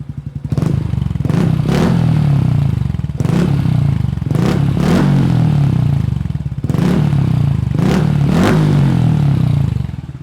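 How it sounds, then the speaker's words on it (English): A 2023 Honda Trail 125 motorcycle engine idles close by and is revved repeatedly, each throttle blip rising sharply into a buzzy whine before dropping back to a throbbing idle. "Let's rev the bike up a little bit."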